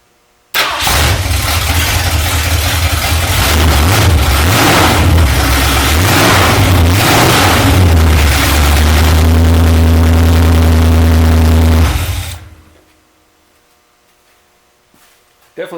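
A 1968 Mustang engine cranks and fires, then roars loudly and unevenly, settling into a steady rumbling idle before cutting off abruptly, heard close without exhaust fitted.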